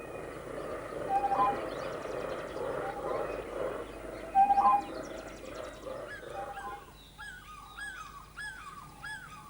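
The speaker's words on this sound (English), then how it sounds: "a bird that makes the most characteristic sound of African woodland savanna, the boo-boo shrike" A boubou shrike gives repeated clear, whistled calls against a dense, busy African woodland savanna background, and other birds chatter faintly. The calls are moderately loud and not very close.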